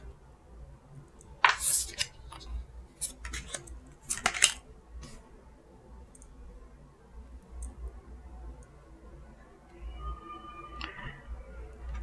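Tarot cards laid out on a table, soft scattered slaps and shuffling clicks with a few sharper snaps early on, quiet gaps between, and a faint tonal sound near the end.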